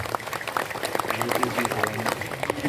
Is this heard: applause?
yes